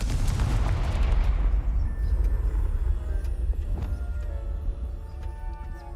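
A fiery Confringo spell explodes in Hogwarts Legacy, a heavy rumbling blast that fills the opening seconds, then fades into a crackling tail with faint tonal chimes.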